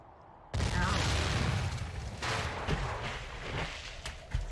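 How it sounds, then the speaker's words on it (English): A sudden explosion bursts out in the Nancy Drew game The White Wolf of Icicle Creek, a loud blast that shatters ice, followed by a rolling rumble that slowly fades with a few sharper cracks near the end. "Sound of explosion."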